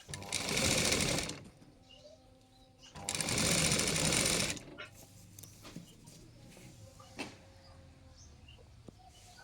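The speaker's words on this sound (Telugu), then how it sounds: "మంచిగా కుట్టమ్మటే ఇట్లా దారం పెట్టుకుంటా స్లోగా కుట్టుకోవాలి" Sewing machine stitching piping onto a lined blouse, two close, loud bursts of steady whirring stitching with a pause between, followed by quieter handling and faint clicks.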